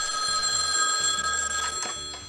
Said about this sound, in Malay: Deringat telefon membolehkan anda mengetahui bahawa terdapat panggilan yang masuk.